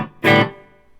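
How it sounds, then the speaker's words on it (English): A single strummed chord rings from a Gibson Les Paul tribute electric guitar with the phase switch on and heavy reverb, a bright loud attack that decays into a long washy tail, with no talking. "Tons of reverb on."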